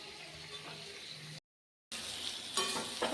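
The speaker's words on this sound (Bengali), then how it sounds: "সরষের তেলে পটলগুলো ভেজে নিচ্ছি" Pointed gourd pieces fry in mustard oil in a pan, giving a quiet, steady sizzle broken by a brief gap, then a soft clink and stir of a utensil against the pan.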